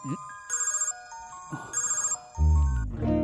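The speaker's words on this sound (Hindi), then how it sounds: "फोन बज रहा है, उसी का होगा।" A mobile phone ringtone plays in two bright, melodic bursts, followed by a loud swelling musical sting at the end.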